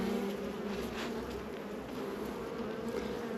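Honey bees crawl and buzz over a hive frame during a beginner's hive inspection, a dense, steady, close humming drone that fills the whole stretch without pause.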